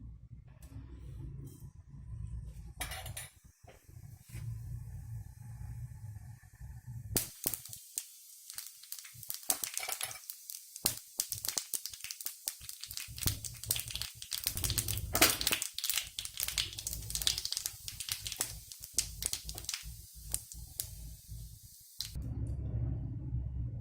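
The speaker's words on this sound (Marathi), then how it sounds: "आता उरलेल्या तेलामध्ये आपण मोहरी, जिरे व हिंग, 1 चमचा हळद टाकून फोडणी देऊन" Mustard seeds, cumin and asafoetida with turmeric crackle and spatter in hot oil for a tempering for Diwali bhadang chivda, a dense, continuous close sizzle with sharp popping crackles that rises abruptly and cuts off near the end, with no speech.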